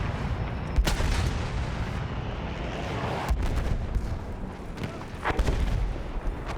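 An artillery cannon fires from a train in the video game Battlefield 1, giving several heavy booming shots at irregular intervals over a constant rumble of battle noise, with no talking.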